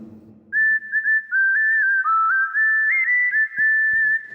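A keyboard's whistle voice plays the lead melody of a Telugu film song: a clear, pure tone sliding between notes in short phrases, loud and close, with no voices.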